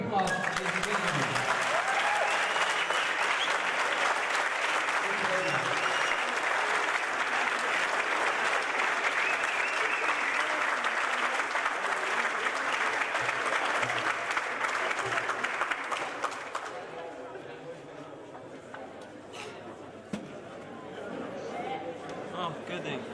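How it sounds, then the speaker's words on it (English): Audience applause for the winner of a junior squash championship final, a dense, sustained clapping crowd that lasts about sixteen seconds and then fades to scattered claps and murmur. "Give her a big applause, ladies and gentlemen."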